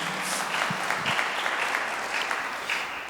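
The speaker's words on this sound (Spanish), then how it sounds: "Damos un aplauso a Dios." A church congregation claps for God at the end of a prayer, steady dense applause filling the room throughout, fairly loud and without talk.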